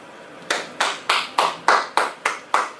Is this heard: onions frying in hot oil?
no